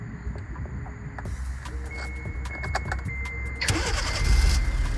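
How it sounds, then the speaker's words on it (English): A 2017–2018 Kia Forte started by remote starter: a brief mechanical click and whir of the starter, then the engine catches and settles into a steady, close idle with a rising rumble toward the end. "And then you got the car is running."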